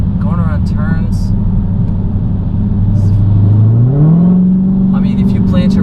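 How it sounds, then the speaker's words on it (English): A 707 hp Dodge Challenger Hellcat Widebody muscle car is heard from inside as its engine drones low, then swells and climbs in pitch under a dab of throttle, with brief bits of voice over the engine. "That was like a little bit of throttle, and it really fights you to get the power down."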